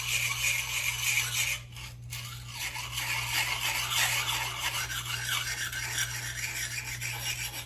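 A metal file rasps in steady strokes against the burrs of a landscaping tool blade, close and continuous, briefly pausing before resuming, over a low electrical hum.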